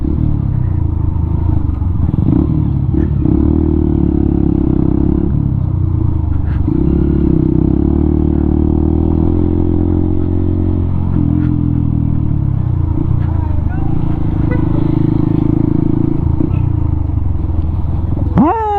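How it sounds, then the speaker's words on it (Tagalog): Steady engine drone and road rumble from a Honda XR150L motorcycle riding through town traffic in Carcar, Cebu, with occasional clatter and passing vehicles, loud and continuous throughout. "Ay, ang traffic dito sa Karkar."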